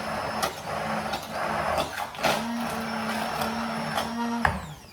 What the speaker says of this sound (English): So I'm going to give this another quick whiz with my blender.